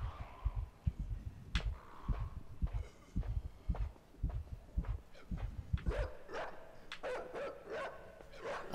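A dog in the video game INSIDE barks in a run of sharp, separate yelps, some near and some more distant, over low rhythmic thumping footsteps, with quieter whimpering cries toward the end.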